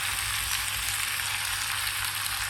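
Fried chicken pieces for Chicken Manchurian sizzle in a hot pan with red chili powder, a loud continuous frying hiss with a low steady hum beneath.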